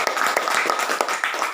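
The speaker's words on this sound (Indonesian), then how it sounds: "tepuk tangan untuk kita semua" A classroom of children claps together, a dense patter of quick hand claps with a few sharper peaks, close and fairly loud, lasting under two seconds with no talking.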